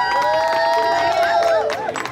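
A pageant crowd cheers for contestant number 3 at the Wat Thai of Los Angeles Loi Krathong pageant, a sustained wash of voices with high whoops and shouts rising and falling over about two seconds.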